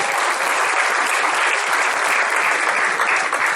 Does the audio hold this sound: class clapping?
yes